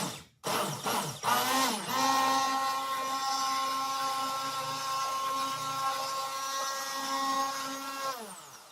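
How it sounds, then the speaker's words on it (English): An immersion blender starts with a few short pulses, then runs steadily with a loud, close motor whine for several seconds before winding down, no voices over it. "now I'm going to need an immersion blender"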